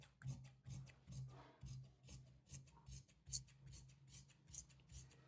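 Scissors snipping through kaftan fabric, a close, quiet series of rhythmic crisp cuts, about a dozen in quick succession, alone without talk.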